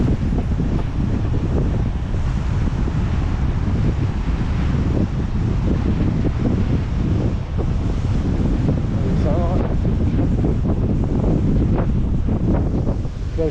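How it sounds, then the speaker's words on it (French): Sea waves pounding rocks near the beach at Cap d'Agde, a loud, constant roar of surf mixed with heavy wind buffeting the microphone, continuous throughout. "qui sont tabassés par les vagues."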